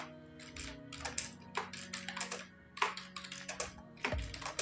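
Fingers type on a computer keyboard while entering a note into QuickBooks Desktop, with rapid clusters of close, crisp key clicks separated by short pauses.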